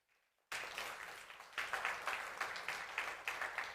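Audience applause at an annual general meeting, starting abruptly after near silence and continuing as steady, dense clapping from a large crowd with rhythmic swells, fairly close and filling the room.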